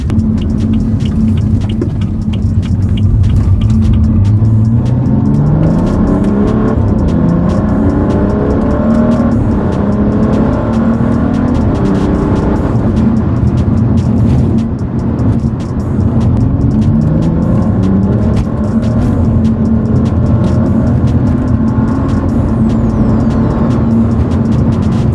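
A car engine revs loudly during repeated intake comparison test runs, with a steady close rumble and several rising, falling pitch sweeps as it accelerates and eases off.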